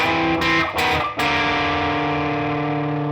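Distorted electric guitar rings out with a heavy overdriven tone, a couple of chords struck and then left to sustain.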